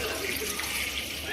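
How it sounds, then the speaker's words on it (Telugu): Water pours into a pot set on a stove, a brief, close and continuous splashing rush. "స్టవ్ వెలిగించుకొని ఒక గిన్నె పెట్టేసుకొని వాటర్ పోసేసుకుందాం."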